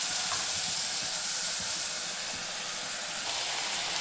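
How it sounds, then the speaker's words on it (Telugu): Sambar ingredients frying in a pan: a steady, even sizzle and hiss running for several seconds, close and moderately loud, with no talking. "కొంచెం వీటిని వేగనిద్దాము."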